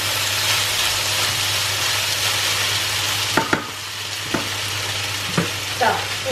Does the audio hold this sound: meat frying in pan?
yes